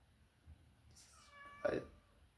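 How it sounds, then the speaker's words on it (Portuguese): A cat gives a single clear meow, fairly close, in a quiet room with only faint background noise and a brief soft sound just before it. "meu gato"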